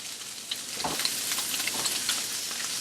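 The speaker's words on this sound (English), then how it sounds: "it's probably going to end up searing the sausage" Italian sausage sears in a hot pan with a steady, crackling sizzle that stays fairly loud and even throughout, dotted with brief sharper pops and spits.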